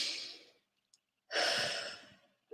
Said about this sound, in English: I want you to just energize it now by taking 4 deep breaths.